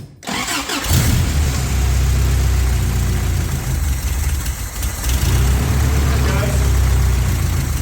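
A 1984 Toyota pickup, recently flooded, cranks and fires up after a short pause, then keeps running with a loud, steady engine rumble close by.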